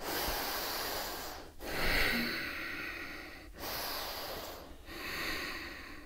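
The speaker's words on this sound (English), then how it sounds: "Breathe." Slow, deliberate yoga breaths alternate between long audible inhales and exhales through the nose during a standing warrior pose sequence, close and clear with brief pauses between breaths.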